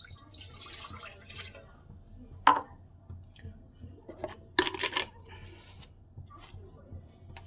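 Water poured into a pan on a lit gas stove for boiling spinach, heard as splashy bursts of pouring with a couple of sharp clinks, fairly quiet and close, with no talking.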